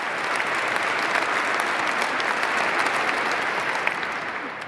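Inauguration audience applauding Donald Trump, a dense, sustained roar of clapping from a large crowd, loud and even throughout with no pause.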